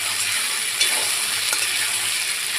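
Fried potatoes tossed with spices in a hot pan for a soybean and potato kosha, giving a steady close sizzle and frying hiss throughout, with a couple of faint scraping stirs and no talking.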